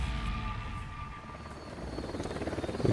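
A helicopter in the open-world shooter Ghost Recon Wildlands drones with a low rotor rumble, its blade thumping growing more pronounced and rhythmic toward the end, fairly close and loud with no talk over it.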